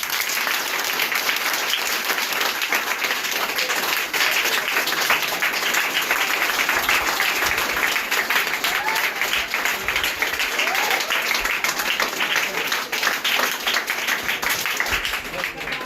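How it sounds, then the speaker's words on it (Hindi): Enthusiastic welcoming applause from an audience at a coaching-class event, steady, loud clapping that runs throughout with no letup. "इसके लिए मैं आप लोगों से कहूँगा कि इसका जोरदार ताली से स्वागत"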